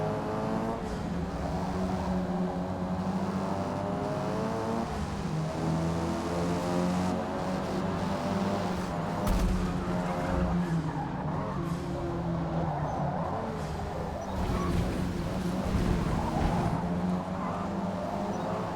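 Race car in Forza Motorsport (2023) on Xbox Series X, with a loud, steady engine drone that revs up and down and brief tire skids over it.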